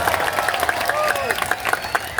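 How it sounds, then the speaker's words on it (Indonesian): Audience clapping at an Islamic sholawat gathering at a boarding school, a short burst of moderately loud applause with some background voices. "tepuk tangan dulu"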